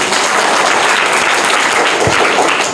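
Loud, dense applause from an audience at a general-knowledge quiz competition after a correct answer, a continuous wash of clapping close by with no talking.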